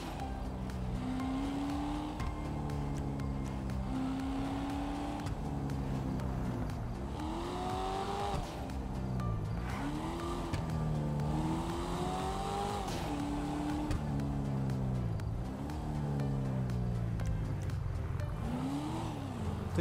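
Car sound from GTA Online as an invisible, transparent car races through the streets in first-person view: a loud, continuous engine roar that rises and falls with repeated revving and gear shifts, filling the whole stretch alone.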